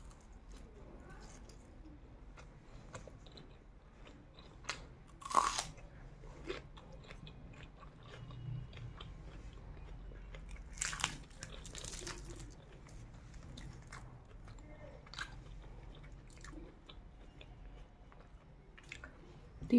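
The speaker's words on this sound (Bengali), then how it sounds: "ফার্স্ট বাইট দেবো।" Close-up biting and chewing of paratha eaten with a potato and cauliflower fry, soft crunches and wet chewing recurring through a quiet room, with a few sharper bite sounds standing out.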